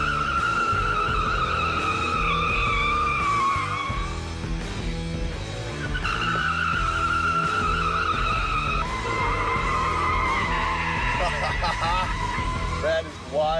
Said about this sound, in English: I will just pop it into drift mode here. Get onto the skid pad and give this a shot.